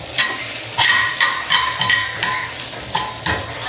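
Egg and rice with green peas frying in a pan, steady sizzle with repeated sharp scrapes and clinks of a utensil stirring against the pan, close up.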